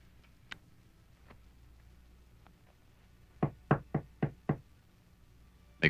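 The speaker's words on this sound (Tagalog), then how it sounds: "May kumakatok." Knocking on a door: a few faint isolated taps, then a clear run of five firm knocks in fairly quick succession, close and crisp in a quiet room, followed by one more knock.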